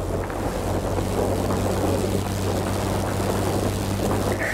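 A propeller fighter's engine drones steadily as the plane circles in World of Warplanes, a constant low hum with wind rush layered on top, loud and unbroken.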